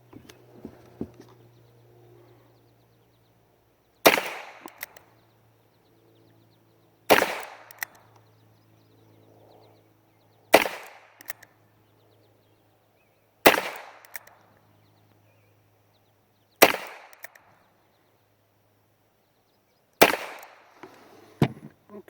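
An H&R 622 revolver fires six single-action shots, each a sharp, loud crack followed by a short decay. The shots are spaced about three seconds apart, with faint handling noise between them.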